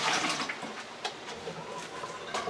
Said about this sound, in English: let me pour the water off so you can see